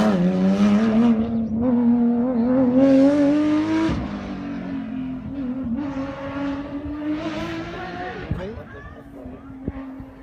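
Porsche rally car on a rally stage, engine note rising and falling through gear changes as it passes at a distance, loud and continuous under a commentator's talk.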